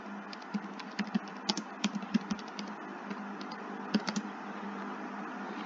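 Keys clack on a computer keyboard in short irregular bursts, close and fairly quiet, over a faint steady background hum.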